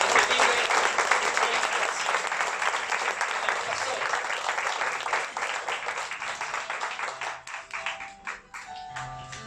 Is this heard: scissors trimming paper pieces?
no